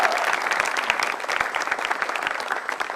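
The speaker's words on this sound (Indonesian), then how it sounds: "tepuk tangan dong" Studio audience at an Indonesian televised stand-up comedy show bursting into dense, sustained applause, loud and close, with steady clapping filling the whole stretch.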